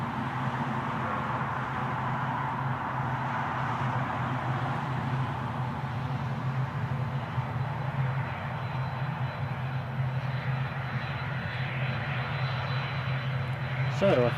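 An ATR turboprop airliner's engines drone steadily at Newcastle Airport, a continuous loud rumble with a low hum and broad roar lasting throughout, with faint talk mixed in beneath the engine noise.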